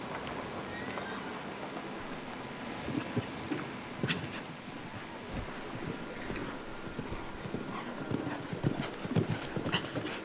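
Racehorse hooves galloping at a Grand Prix horse race, a rapid thudding clip-clop of hooves in irregular bursts under wind and crowd noise, fairly faint and distant.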